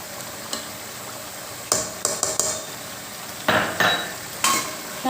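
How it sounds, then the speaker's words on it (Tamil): A spoon stirs chicken biryani masala in a pan: a handful of sharp scraping strokes at irregular intervals over a faint background sizzle, with no talking. "நல்ல மசாலா ஒன்றோட ஒன்றா வச்சுற மாதிரி கிளறி விட்டுக்கோங்க"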